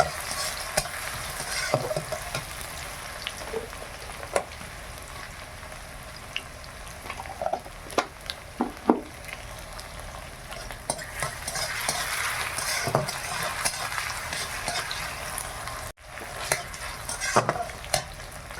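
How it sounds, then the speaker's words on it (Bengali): Onion and tomato frying together in a pan with cardamom, cloves, cinnamon and bay leaf, a continuous soft sizzle broken by scattered scrapes and clinks of stirring, close and alone. "পেঁয়াজ টমেটো ভাজা হয়ে গেছে"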